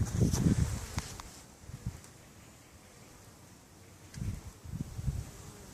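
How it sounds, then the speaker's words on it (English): Honey bees buzzing around a hive on a permaculture farm with cherry trees, the faint drone coming in two short bursts at the start and near the end, with quiet rustling between. "My bees are doing great."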